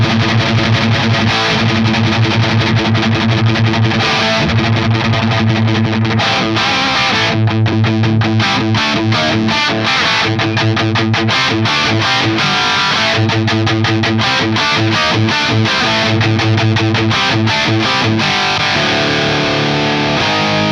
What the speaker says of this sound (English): Let's try the boost with the distortion section turned off into the Wangs